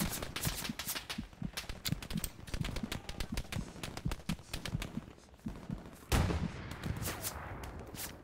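Rapid gunfire in a video game, dense bursts of sharp shots, some close and others more distant, rattling continuously with a louder volley near the end.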